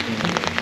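Rain falling at a beach resort on an island during a storm, a dense close patter of drops on a surface, brief and fairly loud.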